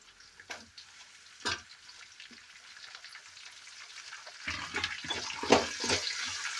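Onions frying in a pan for lemon rice make a soft sizzle with occasional clinks and stirring knocks, quiet at first and growing louder and busier toward the end, with no talk.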